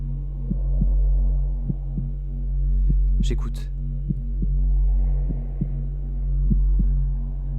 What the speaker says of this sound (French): et mon cœur bat